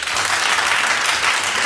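An audience breaks into dense, steady applause, a loud continuous wash of many hands clapping together with no voices over it.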